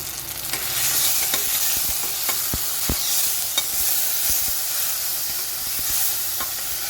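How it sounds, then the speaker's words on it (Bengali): Spices sautéing in a hot pan with oil, a steady sizzle broken by scraping stirs and spoon clicks, close and moderately loud, with no talking. "কিন্তু আগে আমি মশলাটা কষে দেবো"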